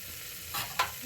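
Vegetables and mutton paya stirred in a pan, a brief low sizzle with two quick scraping strokes of a spoon close by, lasting about a second.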